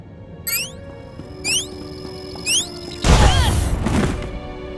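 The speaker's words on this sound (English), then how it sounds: "That was a nasty explosion." An explosion from a detonator in Star Wars: The Old Republic (SWTOR), a loud broadband burst with a rumbling tail lasting about a second, preceded by a few short electronic chirps, with no voices.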